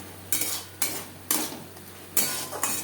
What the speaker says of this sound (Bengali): লবণ হলুদ মশলার সাথে বেশ ভালো করে মিক্সড করে দেবেন